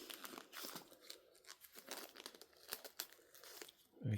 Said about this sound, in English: we'll take off the cellophane